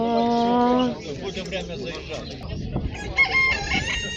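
A rooster crows nearby at a poultry show, followed by clucking chickens and other birds amid a busy background of people talking.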